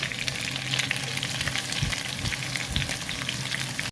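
Garlic tossed into a hot pan and frying for chicken adobo, a dense steady sizzle with occasional clunks of stirring, close and loud throughout before cutting off abruptly.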